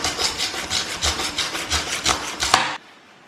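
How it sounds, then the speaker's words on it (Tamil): A kitchen knife is sharpened with about a dozen quick, rhythmic rasping strokes, loud and close. The scraping stops abruptly near the end and nobody speaks. "ஸோ லைட்டாக வந்து நைஃபை வந்து ஷார்ப் பண்ணிடுறேன்."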